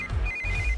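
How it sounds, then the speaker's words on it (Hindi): A phone ringing in a Hindi-dubbed South Indian film, a short electronic ringtone with a steady high tone sounding over low background music. "इस वक्त दीदी का फोन।"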